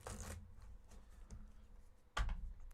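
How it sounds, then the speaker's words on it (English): Playing cards being shuffled at a St Patrick's Day tavern drinking game, with a short riffle at the start, a few soft shuffles through the middle and a louder riffle near the end, heard close and alone. "I'm trying to shuffle these a little better."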